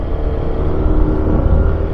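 A motorcycle engine humming steadily while riding up a mountain road in Tinoc, Ifugao, a continuous close drone with wind rush and no talk.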